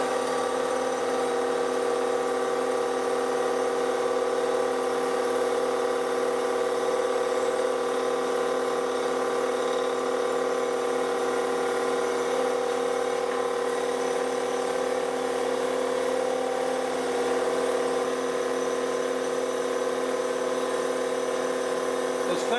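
A milling machine cuts metal at about 1100 RPM in a home shop, giving a steady, even mechanical whir with a sustained tonal hum that holds unchanged throughout, no talk over it.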